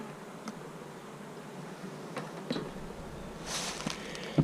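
Honeybees at a hive give a steady, low buzzing drone close by, with a few soft taps and brief louder rustles near the end.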